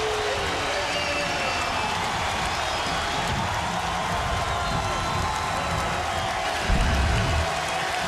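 Arena crowd noise at an Iowa Hawkeyes home basketball game in Iowa City against Indiana, a steady broad roar of cheering fans with a brief louder swell near the end.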